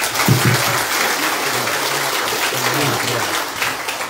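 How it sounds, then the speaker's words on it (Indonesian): Crowd applause at a political rally for regent and vice-regent candidates in Southwest Sumba, a dense, steady clatter of many hands that holds loud and even for the full stretch, with low murmuring mixed beneath it. "Tepuk tangan dong."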